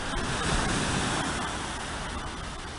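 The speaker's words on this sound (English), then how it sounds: "I love that sound of the waves lapping on the shore" Waves lap on the shore at Minehead, a steady close wash of surf with a brief swell of louder breaking before easing back.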